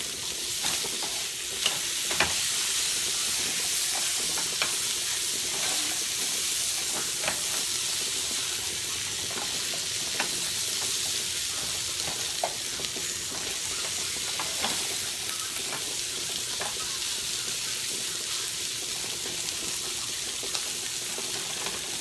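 Shrimp sizzle and hiss in a hot pan for shrimp and grits, a steady frying crackle throughout with repeated scraping stirs at regular intervals and no talking.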